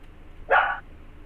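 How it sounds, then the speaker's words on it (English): A dog in the video game Fallout gives one short, sharp bark that stands alone over a faint low hum. "Dog barking at something?"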